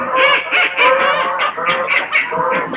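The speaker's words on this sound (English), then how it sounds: "get a load of those ducks" A flock of waterfowl honks and calls repeatedly in overlapping bursts, fairly close and loud, with no talking.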